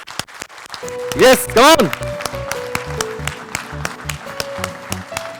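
An audience at a numerology meet-and-greet gathering in Mumbai bursts into two short loud rounds of applause, then claps along in a steady rhythm, while someone speaks over the clapping.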